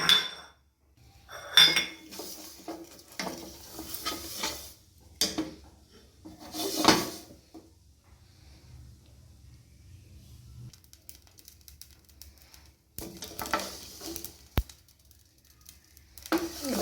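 Fenugreek and mustard seeds are dry roasted in a pan, with intermittent bursts of metallic clinking and scraping separated by quiet gaps.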